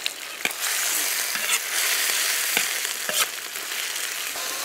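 Lean pork sizzling and frying in a hot wok with scallion, ginger, garlic and dried chili, a steady broadband hiss broken by sharp scrapes and clacks of the spatula stirring, close and continuous with no talk.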